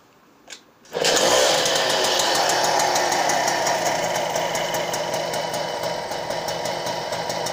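A Motobécane 51 Sport Électronique moped fires up after a brief kick and settles into a steady, buzzing two-stroke idle, close and loud throughout.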